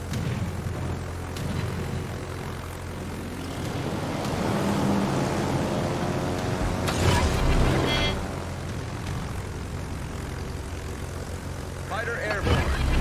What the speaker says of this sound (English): let's send some rocket planes after him